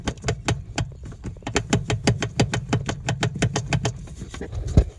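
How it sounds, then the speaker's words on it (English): Rapid, irregular clunks and rattles from the loose axles of a Polaris Sportsman 570 ATV, a steady run of sharp knocks over a low engine drone, ending in one louder thump. "they have a lot of play and they make lots of clunks"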